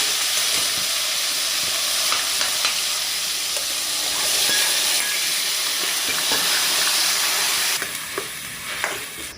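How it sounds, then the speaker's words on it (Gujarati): Onion puree hits hot oil with cumin and hing in a pan, setting off a loud, steady sizzle and hiss with occasional stirring clatter, easing slightly near the end. "હવે આપણે આ ડુંગળીની પ્યુરી નાખી દઈશું।"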